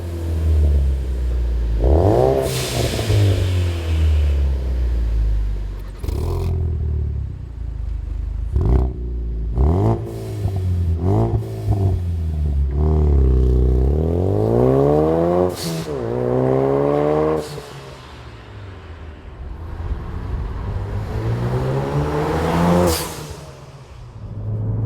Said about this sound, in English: Definitely has a deeper tone than the factory system, and for once that sound's coming from the exhaust